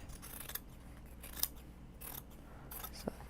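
Scissors trim the fabric of a sewn bag, with several separate crisp snips close by against a quiet background.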